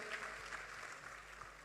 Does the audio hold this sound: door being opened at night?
no